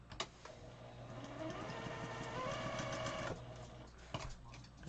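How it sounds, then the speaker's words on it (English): Sewing machine stitching a quilt in a quilt-as-you-go project, a steady close motor whir with a rapid needle rhythm running almost the whole time, pausing briefly near the end. "we will sew on this one now"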